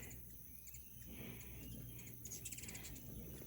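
Small birds chirp and tweet in a summer garden with okra and strawberry beds, their calls faint and scattered against a steady hum of insects and outdoor ambience, with no one speaking.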